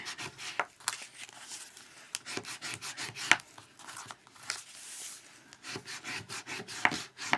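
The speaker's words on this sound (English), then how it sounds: "I'm just going to burnish these all down really quickly" Paper being burnished flat by hand while making a flat mailbox, a steady scratchy rubbing with quick repeated strokes and occasional sharper scrapes, close and moderately loud, no talking.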